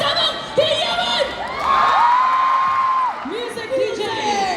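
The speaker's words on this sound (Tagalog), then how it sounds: "Magpalakpakan na may kasamang hiyawan!" A crowd at an event cheers and whoops loudly without pause, with children shouting among them, while a voice calls out over the noise.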